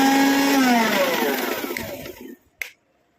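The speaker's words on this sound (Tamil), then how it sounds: "நான் மிக்ஸி ஜார்லேயே போட்டு அரைச்சி எடுத்துக்கிறேன்" A mixer grinder whirs loudly at high speed grinding ingredients into powder, then winds down and stops, followed by a brief clatter.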